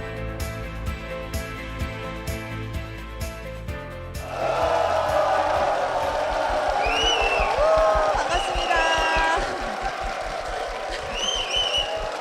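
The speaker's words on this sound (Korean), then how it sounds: "박수와 함성과 휘파람 소리까지 네, 아유. 엄청난 함성으로 시작을 했습니다" A church congregation erupts into applause, cheering and shrill whistles right after music ends, a loud, crowded roar with sharp whistles rising above it for several seconds.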